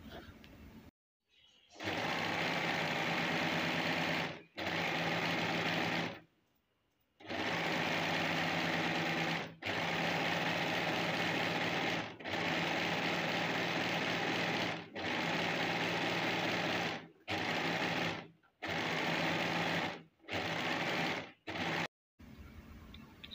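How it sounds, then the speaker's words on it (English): A serger overlocker stitching very stretchy fabric, running in a series of loud, close bursts of steady mechanical whirring, each a few seconds long and separated by brief silent pauses. "Here I'm using my serger, but you can use the regular machine."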